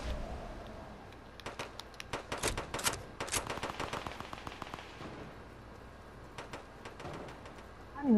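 Scattered bursts of gunfire in Fortnite season 9, quick rattling volleys and separate pops at moderate volume, with gaps between the strings of shots.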